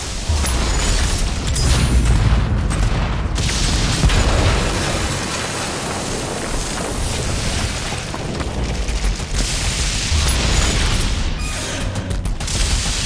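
Gunfire and explosions from DOOM: The Dark Ages, including autocannon fire against energy shields: dense, loud booms and bursts roll continuously, with brief sharp pops and gaps scattered through the battle.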